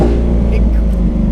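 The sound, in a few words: Lamborghini Aventador S Roadster engine blipping throttle on downshift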